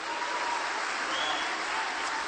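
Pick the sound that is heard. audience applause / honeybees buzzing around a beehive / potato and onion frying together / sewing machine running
audience applause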